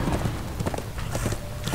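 Horse galloping in Darksiders 2, a quick, rhythmic clip-clop of hooves that runs steadily throughout at moderate loudness.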